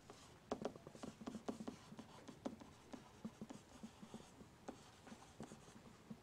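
A pen writes out notes for a math lesson on graphing rational functions, a steady run of quiet scratchy strokes and taps, faint and close, with no one speaking.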